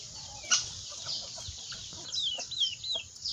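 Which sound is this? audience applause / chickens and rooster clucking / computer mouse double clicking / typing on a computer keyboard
chickens and rooster clucking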